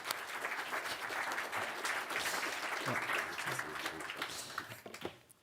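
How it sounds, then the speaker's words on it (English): An audience applauds panelists at a European Sustainable Energy Week session on European batteries, with dense, steady clapping filling the room for several seconds before fading at the end. "please give the panelists a round of applause"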